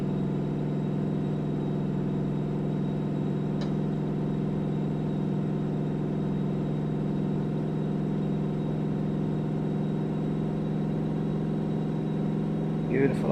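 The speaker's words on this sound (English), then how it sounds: "Beautiful, I love the engine in this." A Mack truck engine in American Truck Simulator, hauling triple log trailers on Alaska's Dalton Highway, drones at a steady low idle-like hum for the whole stretch, loud and constant with only faint clicks on top.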